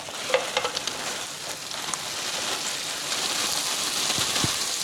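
Orange-yellow garden courgettes sizzle and crackle steadily in a hot pan for spaghetti aglio olio, with scattered pops and a brief stirring clatter early on. No one speaks.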